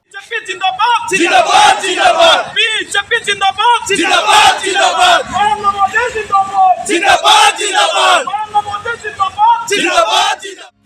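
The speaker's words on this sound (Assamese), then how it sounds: "মিঠাই বিতৰণ কৰি আনন্দ উল্লাস।" A crowd at a BJP victory celebration in Jorhat shouts and cheers loudly and close by, rising in repeated bursts of massed yelling and chanting voices.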